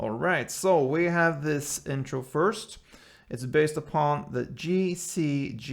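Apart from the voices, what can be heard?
No everyday noises stand out.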